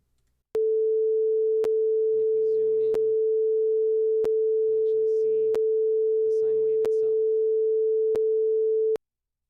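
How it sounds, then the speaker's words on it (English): A steady 440 Hz sine tone generated in Audacity, a pure unbroken note that holds for about eight seconds. Someone speaks faintly underneath it and soft clicks recur at regular intervals. "Let's do 20 seconds of sine wave."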